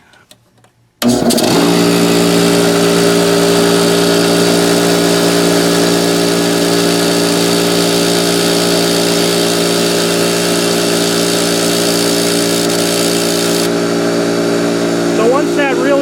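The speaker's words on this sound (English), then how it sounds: "Now we'll fire up the air compressor, the old Coleman 6-gallon." An old Coleman 6-gallon air compressor starts up and runs loudly and steadily, a constant mechanical drone with a strong hum lasting the whole stretch after a brief quiet start.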